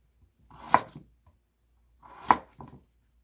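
Two slow knife chops cutting radish into thick pieces on a board, each a crisp solid thunk followed by a softer tap, close and clear, with quiet between strokes.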